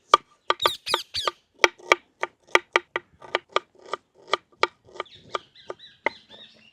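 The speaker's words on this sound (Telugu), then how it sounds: "అందులోకి ఒక ఉల్లిగడ్డ కోసుకుందాం. సన్నగా తురుముకోవాలి" An onion chopped finely on a board for chicken vada, sharp close knife strikes in a quick, uneven run of about twenty cuts, some bunched tightly together.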